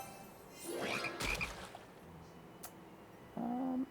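Frog minions croak in the Potion Master video game, several croaking calls over game effects and chimes, a louder croak near the end, with no talk.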